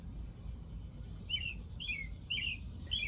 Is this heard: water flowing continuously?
no